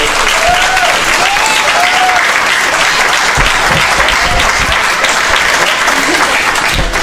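A church congregation claps in loud, dense, sustained applause that fills the whole stretch evenly, with faint crowd voices mixed in.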